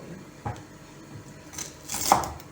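A few knife cuts slicing onion into strips on a board, one soft stroke followed by a louder cluster of slicing near the end, close up.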